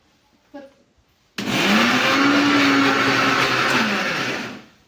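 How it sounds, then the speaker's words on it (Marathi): A mixer grinder whirs loudly at full speed, grinding cooled dry masala to a fine powder for dhaba-style Tari Dar Shev Bhaji, starting abruptly after a brief quiet moment and running steadily for about three seconds before winding down. "आपण घेणार आहे मिक्सर मधून छान बारीक वाटून घेणार आहे"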